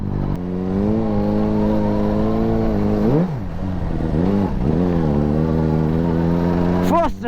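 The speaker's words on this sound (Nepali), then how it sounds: "फर्स्ट टाइम हामी हिलेमा सुपर बाइक लिएर आइरहेको छु गाइजहरू धनकुटाको हिलेमा" A Suzuki GSR 600 superbike ridden on a hill road in Dhankuta, Nepal, its engine note climbing and falling as the rider revs through the ride, loud and continuous with wind rush.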